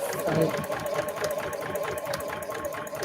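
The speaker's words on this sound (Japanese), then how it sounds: "ちょっと自動糸切りだけね、結構音がすごいする。" The automatic thread cutter on a home sewing machine, used while sewing a bag, gives a loud, rapid mechanical clatter with a steady whirring hum beneath it, and a voice seems to talk over it.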